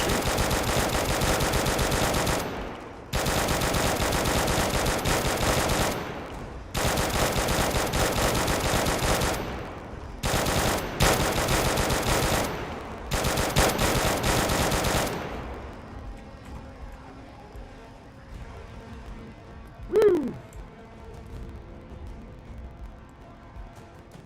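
Automatic gunfire in a Space Exploration and Krastorio 2 modded game, blasting at zombies in several long sustained bursts over about fifteen seconds, loud and close with no talk, then quieter background with a single sharp sweep near the end.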